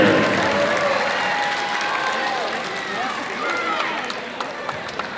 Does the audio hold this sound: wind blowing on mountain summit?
no